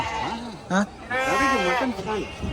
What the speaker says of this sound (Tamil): இங்கே கிடைக்கும் எல்லாமே அந்த ராமநாதபுரம் செம்மறி ஆடு தான்